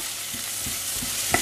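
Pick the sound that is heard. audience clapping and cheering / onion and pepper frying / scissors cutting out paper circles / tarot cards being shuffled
onion and pepper frying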